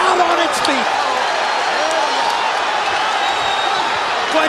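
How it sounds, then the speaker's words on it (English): A boxing arena crowd is on its feet during the De La Hoya vs Mosley fight, a dense, loud, continuous roar of roughly 20,000 spectators with occasional whoops rising above it and a commentator speaking over the noise. "Crowd on its feet."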